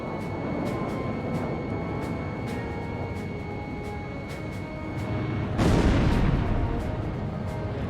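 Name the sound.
aircraft gunfire in video game Ace Combat Zero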